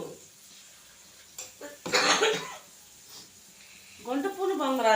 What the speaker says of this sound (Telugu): దగ్గు